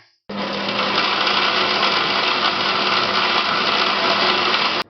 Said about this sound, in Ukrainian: Вмикаємо блендер і змільчаємо.